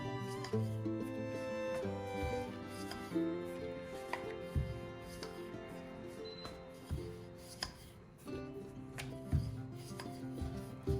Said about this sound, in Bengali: আলতো হাতে বেলবেন, চাপ বেশি দিলে আবার ডালগুলি বেরিয়ে যাবে না।